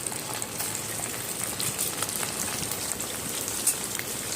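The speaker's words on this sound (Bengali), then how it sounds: "তারপরে একটা একটা করে চিকেনের টুকরোটা দিয়ে ভালো করে ফ্রাই করে নিতে হবে" Chicken pieces frying in hot oil, a steady dense crackle and hiss of sputtering fat that runs evenly throughout, close and fairly quiet, with no talking.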